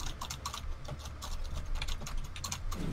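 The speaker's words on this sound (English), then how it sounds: "your keyboard is so loud" A loud computer keyboard clatters with rapid, uneven keystrokes during a Shadow Warrior 2 gaming session, close and continuous with faint game sound beneath.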